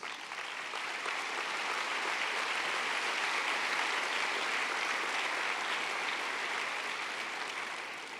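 A church congregation at a convention applauds for Jesus, the clapping swelling into a sustained, even roar for several seconds before tapering off.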